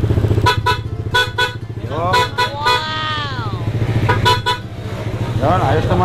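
Aftermarket PIAA horn fitted to a Honda ADV 150 scooter blares in several short toots and longer honks, loud and close, with someone speaking between the blasts.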